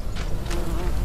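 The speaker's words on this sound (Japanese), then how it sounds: "なんかハエみたいな虫の音聞こえね" A fly-like insect buzzes in the Human: Fall Flat video game, a brief, thin, wavering drone over a low, steady background hum.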